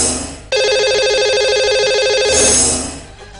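A telephone rings for an incoming call on a broadcast phone line, one loud sustained warbling electronic ring lasting about two seconds over low background hum.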